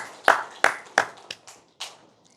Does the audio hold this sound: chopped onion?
no